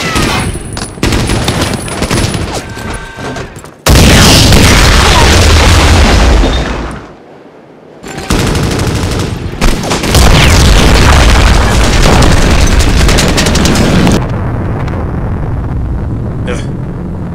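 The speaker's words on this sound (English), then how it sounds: "All I have to do is shoot those explosives, and I'll take out that tank." Explosives blow up a tank in the game Plastic Apocalypse, with loud heavy blasts and a long rumbling roar. A short quiet gap follows, then another sustained booming stretch, while a voice is heard at times.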